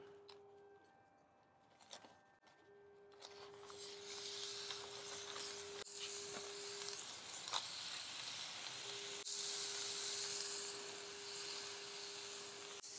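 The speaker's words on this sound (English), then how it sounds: "Now we'll go ahead and grill those patties." Thin burger patties for a copycat Tommy's double chili cheeseburger hit the grill and settle into a steady, bright sizzle. A faint hum runs underneath, and the crackle swells louder after a few seconds.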